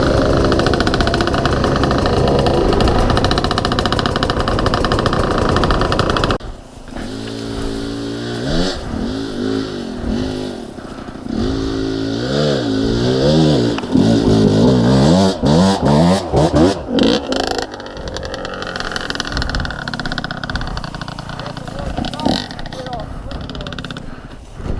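A motorcycle engine runs steadily and close by, its revs rising and falling in repeated surges, with people talking over it through most of the stretch.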